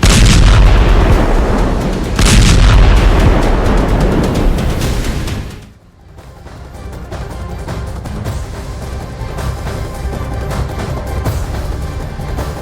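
Artillery shelling from Israeli army bombing in southern Lebanon: two heavy, booming blasts roll out one after another, followed by a sudden hush and then a long, crackling rumble of distant fire.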